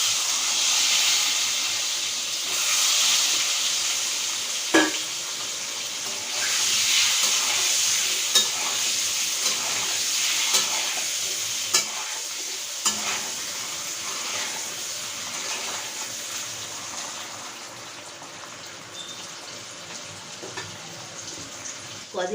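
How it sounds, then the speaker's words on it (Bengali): Eggs shallow-fried lightly in hot oil in a pan for egg korma give a steady close sizzle and crackle, with occasional sharper pops and stirring scrapes throughout. "ডিমটা হালকা করে ভেজে তুলেছি।"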